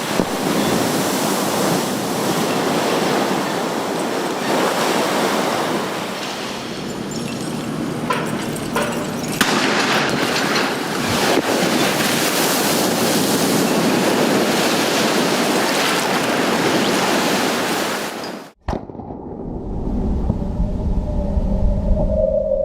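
A scale model of a spacecraft splashes down in a water landing test, a loud, steady roar of rushing, churning water lasting about eighteen seconds before cutting off abruptly to a much quieter background.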